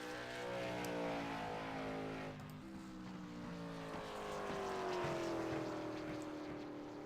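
A race car laps a circuit alone during qualifying, its engine droning steadily with harmonic whine, pitch dipping and rising through gear changes and corners, heard from a moderate distance without talk.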